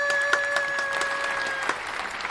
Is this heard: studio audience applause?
yes